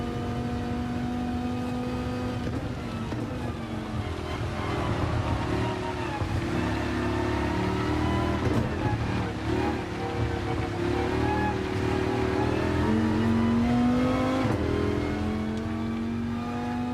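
A race car at Le Mans in Gran Turismo 7 screams through the Porsche curves, its engine note climbing and dropping through gear changes and sustained high revs, with other cars droning nearby, loud and continuous.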